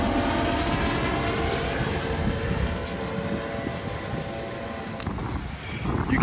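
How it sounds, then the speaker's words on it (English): Steady droning Coast Guard helicopter engine noise fills the whole stretch, loud and close, with no talking. "Coast Guard helicopter."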